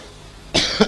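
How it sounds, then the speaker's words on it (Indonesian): A single man's cough, loud and close, one sharp burst followed by a second shorter hack, heard alone during a religious gathering sermon. "batuk dulu"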